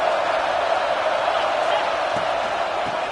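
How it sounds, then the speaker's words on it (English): A steady, loud roar from a stadium crowd in a college football video game, an unbroken wash of cheering with no distinct claps or voices standing out. "This crowd knows when to bring it."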